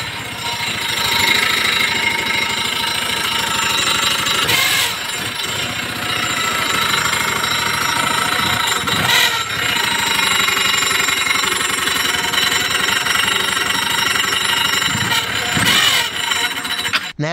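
A motorcycle engine runs steadily with something catching in its side panel, a loud, harsh continuous rattling drone with a few brief sharper bursts, close up and without speech.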